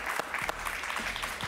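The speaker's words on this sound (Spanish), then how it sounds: "Un aplauso para ellos, por favor" Studio audience clapping on a television interview show, a brief, faint spell of applause with a few sharper claps poking through a low, steady background.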